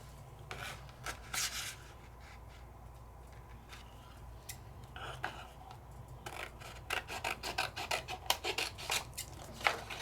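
Scissors trimming paper in a craft setting, a steady run of close rasping, rubbing cuts that turn into quicker clustered snips toward the end.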